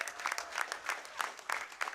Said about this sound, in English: Keep those claps going.